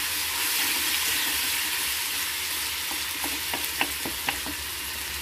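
Ginger garlic paste fries in a pan for cabbage curry, a steady loud sizzle with a few scraping stir sounds near the end.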